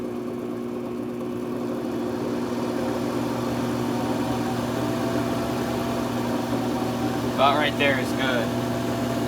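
A wood lathe turning purple heart wood spins up under variable speed, a steady close motor hum with a faint mechanical whine rising slightly. A voice speaks briefly near the end.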